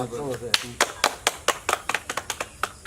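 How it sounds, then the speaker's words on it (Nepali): A small audience claps in steady, fairly quick rhythm after a card magic trick, with a voice briefly heard at the start before the applause takes over. "ताली बजाउनु"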